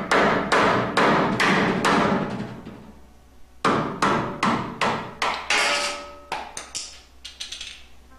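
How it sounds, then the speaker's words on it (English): Sharp, repeated metallic taps and strikes as a screwdriver breaks the rear seal away from the extension housing of a 4L60 automatic transmission; close, loud impacts in rhythmic bursts with short gaps between groups. "use a screwdriver and break the seal away from the extension housing"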